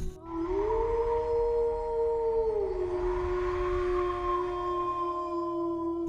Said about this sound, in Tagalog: Sa alulong ng aso.